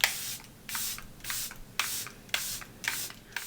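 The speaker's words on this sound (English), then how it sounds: "I am just going to set my face with my Charlotte Tilbury setting spray." Charlotte Tilbury setting spray misted onto a face in short bursts, six or seven quick hissing sprays evenly spaced about half a second apart, close and fairly quiet with no talking.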